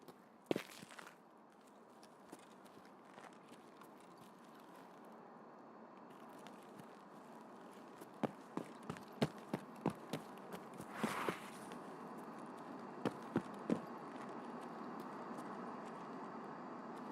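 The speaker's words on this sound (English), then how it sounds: "footsteps." Footsteps in Tank Mechanic Simulator, a handful of faint scattered thuds over a low steady background hum, with a brief cluster of steps in the middle.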